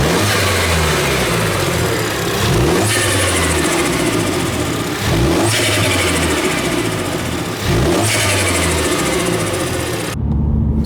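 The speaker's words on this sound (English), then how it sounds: "show you what the factory intake sounds like" A Mini Cooper S on its stock factory air intake, in sport mode and second gear, revs hard three times in a row, each loud, close climb rising and dropping back with no voices over it.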